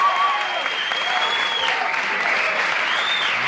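A late night talk show studio audience cheers and applauds loudly and without pause, with whoops and shouts rising over the steady roar of clapping.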